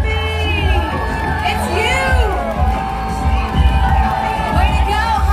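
Spectators cheer and whoop along the Disney World Marathon course, a loud, close crowd of shrill voices and children shouting, with people talking and calling out over the cheering.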